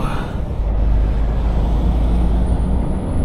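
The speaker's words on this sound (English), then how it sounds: "Listen to that turbo spool." A Scania delivery truck pulling away in early-morning traffic, its deep engine rumble steady and loud while a thin, rising turbo whistle climbs above it through the second half.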